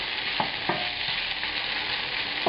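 Bacon strips just laid into a pan for beef and cheese enchiladas sizzle in a steady, dense hiss, with a few soft scrapes and stirring knocks and no voices.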